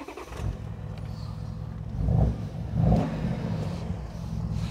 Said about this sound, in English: It's not bad for a diesel, is it?